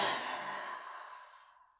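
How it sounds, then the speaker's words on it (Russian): A single forceful exhale on a breathy 'ha' during a breathing exercise, a close rush of air that starts strong and fades smoothly over almost two seconds, heard alone. "Звук, выдох со звуком ха."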